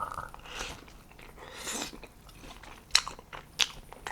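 Close, fairly quiet biting and chewing on a slice of pizza, with soft crunches and mouth sounds and two sharper crunchy bites near the end.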